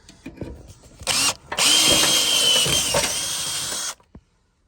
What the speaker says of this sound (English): And then we're going to put the nuts and bolts on, raising it through again.